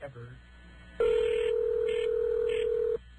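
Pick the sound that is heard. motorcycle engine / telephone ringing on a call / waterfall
telephone ringing on a call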